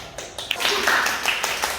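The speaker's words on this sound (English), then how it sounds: "Give applause" Brief clapping from a small audience for a presenter at a student group presentation on suicide among students, a short patter of hands at moderate level.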